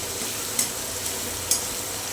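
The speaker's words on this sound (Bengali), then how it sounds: "ভালো করে একটু ভেজে নেব।" Salted food fries in a home kitchen pan, giving a steady, moderately loud sizzle throughout. Two faint clinks of a utensil stand out against it.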